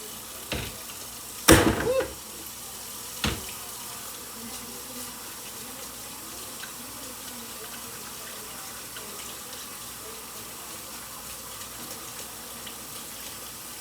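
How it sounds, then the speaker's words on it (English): A kitchen faucet runs water for a meatloaf mixture, a steady, fairly quiet stream with a few sharp clicks and knocks near the start, then an even flow. "I also put water in my meatloaf and meatball mixtures because water is what keeps it nice and moist."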